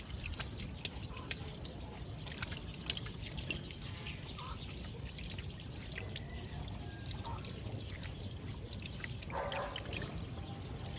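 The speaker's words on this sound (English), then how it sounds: "Then rinse it thoroughly without touching the faucet and the sink again." Tap water runs steadily over hands being rinsed at a sink during aseptic handwashing, a continuous soft pouring and trickling wash with faint splashes, moderately close, no talking.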